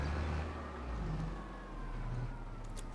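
A tractor engine runs steadily at idle on a Montana farm field, a low continuous rumble with a slight swell in the middle and no talk over it.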